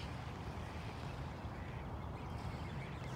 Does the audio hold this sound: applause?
no